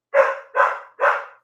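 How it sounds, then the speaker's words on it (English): A dog barks three times in steady succession, each bark loud and fairly close, with brief pauses between them and no other sounds. "Apparently somebody's here and Tallulah is barking at them."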